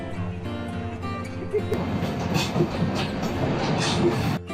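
A train rumbles along the rails with a steady low roar and faint rhythmic clatter, growing slightly louder toward the end, on a trip from Dhaka toward Sylhet.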